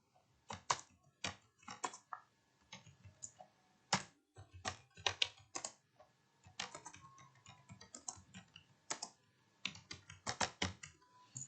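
Typing on a computer keyboard while working in MS Excel, with irregular bursts of close, crisp key clicks separated by short pauses, heard alone without talk.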